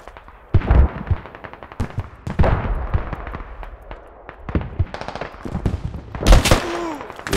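Gunfire in the military shooter Squad, irregular close and distant shots with bursts of automatic fire, loud sharp cracks spread across the stretch.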